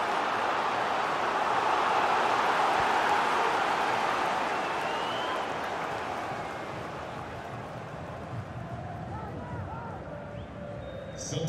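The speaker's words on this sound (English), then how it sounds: "Well, just listen to the crowd. They know this is a big chance to equalise." A stadium crowd in the football video game FIFA 22 roars as a broad, steady wash of cheering that swells then eases slightly, with faint commentary underneath.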